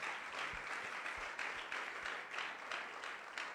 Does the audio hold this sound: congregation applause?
yes